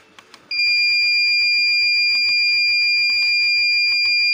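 A PPI humidity controller alarm starts after a couple of faint clicks and holds as a loud, piercing steady tone with pulsing beeps layered over it, close and continuous.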